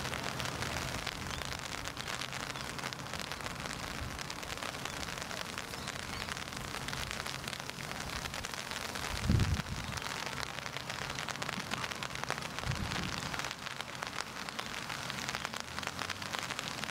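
Steady rain patters on surfaces at a lake swim during a carp fishing session, a continuous close hiss with a couple of heavier thuds partway through.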